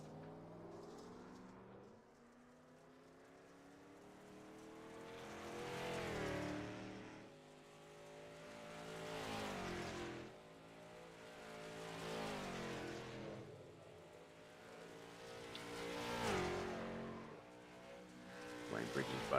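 Race cars on a qualifying run at Bristol Motor Speedway in the iRacing video game, engines rising and falling in repeated pitch sweeps as cars circle the short track, with a commentator talking over them throughout.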